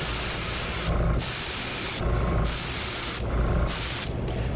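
Red paint is sprayed in a second coat onto a fishing lure, heard as close, loud hissing bursts of about a second each, separated by short gaps as the spray is released and pressed again, with no talking.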